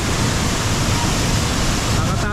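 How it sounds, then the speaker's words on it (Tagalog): Loud, steady roar of rushing water from Gabaldon Falls in Nueva Ecija, Philippines, a powerful waterfall, a dense continuous wash close by. "Nakatakot lang, napakalakas ng tubig."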